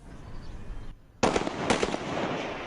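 Gunshots in the eastern Ukrainian city of Slavyansk: a sharp crack rings out after a brief hush, followed by a few more loud bangs echoing against a noisy outdoor background.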